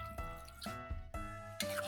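Water is poured into a cooking pot for pork adobo, a faint, gurgling trickle with drips and splashes that shift in pitch over a couple of seconds.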